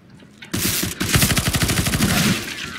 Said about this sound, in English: Wow, he shot me.